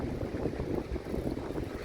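Strong wind sweeps across a rocky headland at Penrhos near Holyhead during rock fishing, producing a continuous, fluttering low roar of gusts buffeting the microphone, with no talking.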